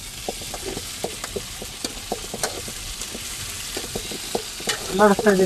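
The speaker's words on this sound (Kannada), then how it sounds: "ಫ್ರೈ ಮಾಡ್ತಾ ಇದ್ದೀನಿ ಆಲೂಗಡ್ಡೆ" Potatoes fry in a pan in a home kitchen as a utensil stirs them, steady sizzle with repeated scraping clicks throughout and a brief clatter near the end, no voices.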